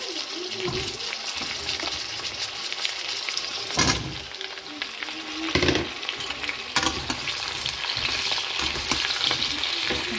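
Potato, eggplant and radish sizzle in a pan with onion for dry fish, with steady frying hiss broken by stirring scrapes and a few louder clatters.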